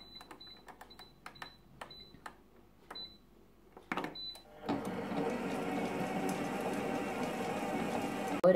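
A Moulinex Clickchef kitchen robot starts up at speed 2 while heating to 80 degrees: a few sharp beeps and clicks first, then a steady whirring motor hum that carries on to the end.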